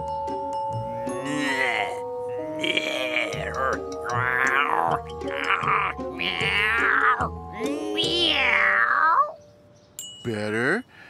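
A person imitates a cat, drawing out a series of exaggerated, wavering meows one after another, loud and close, with a short pause before a final one.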